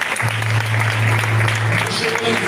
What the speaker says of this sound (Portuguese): Palmas, louvam ao Senhor Jesus.